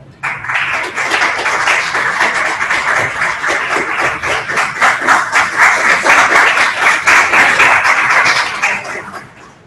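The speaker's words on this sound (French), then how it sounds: "l'agronome Jacques-Édouard Alexis, que je vous demande d'applaudir s'il vous plaît." A lecture audience breaks into sustained, dense applause after a Haitian agronomist is introduced, clapping steady and loud for nearly ten seconds before tapering off at the end.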